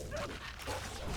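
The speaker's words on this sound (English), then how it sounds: "I suppose it would be unfair just to call him a dog. He is, after all, a warhound." A warhound in the Skyrim video game gives a few faint, muffled yips and barks against a dull, noisy background.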